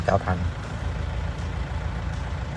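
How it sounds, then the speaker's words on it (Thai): A Kubota L4508DI four-wheel-drive tractor fitted with a dozer blade idles with a steady low diesel rumble, and a voice is heard briefly at the start. "เครื่องยนต์สตาร์ทติดง่ายนะครับ เครื่องปกติ"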